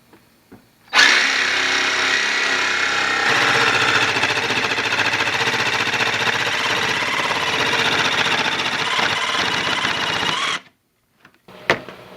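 A battery-powered saw cuts through a piece of wood, running as one loud, steady buzzing whine for about ten seconds before cutting off, followed by a few faint clicks.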